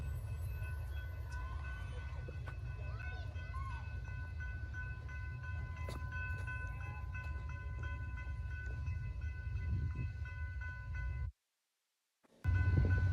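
Train passing in a Roblox rail game, a steady low rumble with faint horn-like tones above it, continuous and moderately loud before the sound cuts out briefly near the end.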